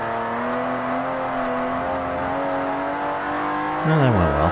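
A race car slides through a corner in Forza Motorsport 4: a strong, steady engine whine holds for several seconds, then drops sharply in pitch as the car loses speed.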